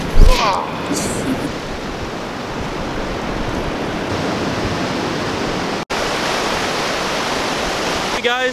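A steady, full roar of surf washing onto the shore at Onjuku beach in Japan, constant and close, with no pauses between the waves.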